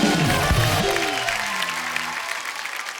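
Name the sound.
audience applause on comedy show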